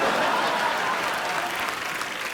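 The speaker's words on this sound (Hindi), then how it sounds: "जोरदार तालियां।" A studio audience at The Kapil Sharma Show, a comedy talk show, applauds loudly and steadily, a dense wash of many hands clapping together throughout with no voices standing out.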